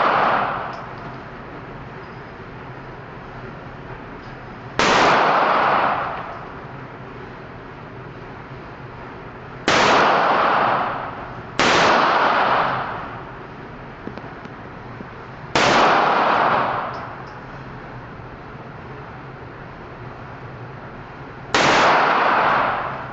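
Five sharp, loud Glock pistol shots at a shooting range, fired at uneven intervals, each a close crack followed by a brief echoing decay over low background noise.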